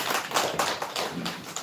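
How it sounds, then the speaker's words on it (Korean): Small church congregation clapping after a birthday song at a Sunday service, a few people's hands making a loose, moderately near patter with rhythmic surges and no voices. "예, 박수하겠습니다."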